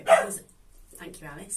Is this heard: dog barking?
yes